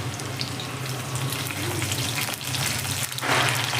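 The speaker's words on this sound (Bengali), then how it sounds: "রসুনটা আমি হালকা করে ভেজে নিলাম" Chopped garlic, about a tablespoon, frying in hot oil over a high gas flame while egg bhurji is made, giving a steady close crackling sizzle that swells slightly near the end, with no talking.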